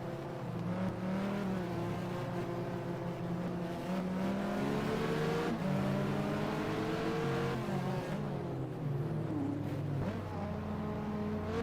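A Porsche NGT race car engine in a racing game set at the 2000 FIA GT Budapest 500km, droning loudly and steadily at high revs with rising pitch sweeps and brief dips at gear shifts.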